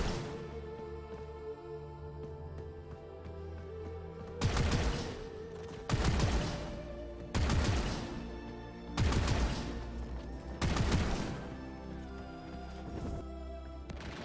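A Warframe operator amp fires grenade bursts in the video game, five loud, evenly spaced blasts about every one and a half seconds over a droning background hum.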